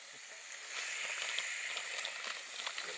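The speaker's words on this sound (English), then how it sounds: "Here he's doing us some pancakes and bacon in the morning." Pancakes and bacon fry in a pan on a camp stove outdoors, a steady bright sizzle with small crackling pops, close and even, with no talking.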